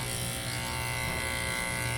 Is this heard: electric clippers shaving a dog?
yes